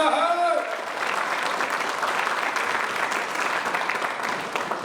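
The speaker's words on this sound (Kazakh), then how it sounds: "Әлі шапалақлар қайда?" Audience at a school reunion evening for the 1986 graduating class of School No. 30 applauding steadily, a dense continuous wash of clapping lasting throughout, with a brief voice at the very start.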